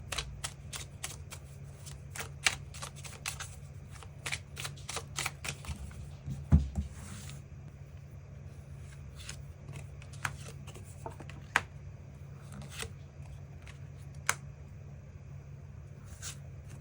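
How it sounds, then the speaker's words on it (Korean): Tarot cards are shuffled close up in a quiet room, a long continuous stream of crisp riffling flicks and soft slaps with occasional sharper taps, with no talking over it. "추가 카드 뽑아보도록 하겠습니다"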